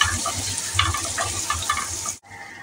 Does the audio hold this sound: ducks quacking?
no